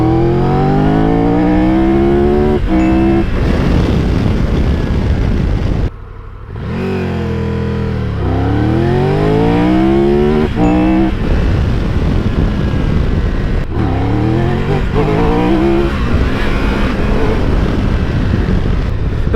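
An adventure motorcycle with an 1160cc triple engine making 150 horsepower pulls hard through a neighborhood, its loud, close engine note climbing in repeated rising sweeps through the gears with a brief dip between them.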